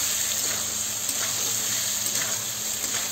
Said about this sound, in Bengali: আর এই যে আমি পনির কটা ভেজে নেব একসাথে, পুরো পনির ভেজে নেব